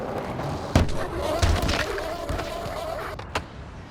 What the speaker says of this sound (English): Dude, you love getting hit by cars